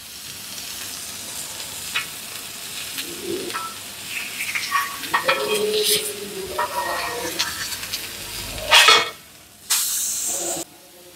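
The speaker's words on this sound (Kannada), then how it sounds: "ಎಣ್ಣೆ ಹಾಕೋತಾ ಇರೋದೆ, ಫಿಶ್ ರೋಸ್ಟ್ ಮಾಡ್ತಾ ಇರೋದೆ." Anjal fish roasting in oil in a hot pan gives a steady close sizzle with scattered clicks and stirring scrapes, two louder bursts of spatter near the end, and a voice speaking briefly now and then.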